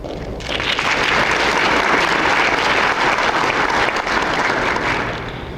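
Sustained applause from a banquet audience at the 1997 International Space Development Conference awards, a dense, steady roar of many hands clapping that holds evenly for several seconds and tapers slightly at the end.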